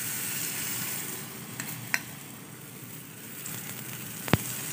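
Egg paratha frying in oil on a pan, a steady, close sizzle that runs throughout, broken by a couple of light metallic clinks; no talking.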